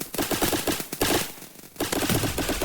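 Rapid automatic gunfire in a Roblox game, with bursts of fast repeated shots fired close and loud, breaking off briefly before resuming.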